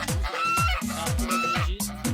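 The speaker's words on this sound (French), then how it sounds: "Ah, il y a deux oies." Two geese call in loud, nasal honking bursts, close by, repeating in quick succession in the Dominican Republic.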